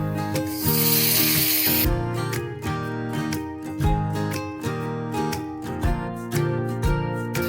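Tomatoes dropped into hot oil in a pan for vegetable masala Maggi noodles give a brief burst of hissing sizzle at the start, then fade beneath steady, loud background music.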